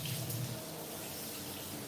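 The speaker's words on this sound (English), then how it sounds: "just a hot water rinse" A hot water tap running for a rinse, producing a steady, fairly loud rushing splash of water into a sink, continuous and without speech.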